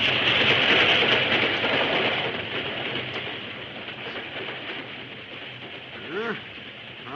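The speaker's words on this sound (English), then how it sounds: "A few minutes later, the express train rushed by." A train rushes past with a loud, rushing roar and rattling clatter that gradually fades, a brief high whistle-like tone near the end.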